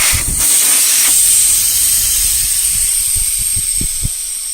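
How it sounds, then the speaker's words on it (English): Air rushes out of an ATV tire tube through a valve with its stem removed, a loud, steady, close-up hiss that runs throughout, with a few soft knocks and handling bumps underneath toward the end. "Lets all the air out real fast."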